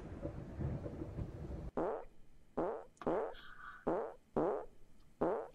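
Comic fart sounds from a cartoon potato character: a low rumbling burst followed by a series of five or six short, evenly spaced flatulent blurts separated by silence.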